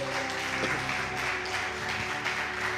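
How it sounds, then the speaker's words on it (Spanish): A church congregation applauds the Lord in a soft, continuous wash of clapping, heard faintly beneath sustained musical tones from the service. "Dale fuerte ese aplauso al Señor, por favor."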